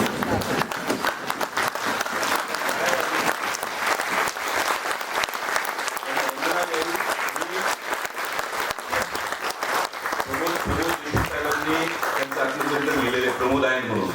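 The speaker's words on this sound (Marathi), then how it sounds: "देशमुख साहेबांच्या कामाला आपण वंदन करावं आणि त्यांना आपण टाळ्या वाजवून त्यांना आपण" An audience at an education summit session applauds with sustained, loud clapping throughout, while a speaker's voice carries over it.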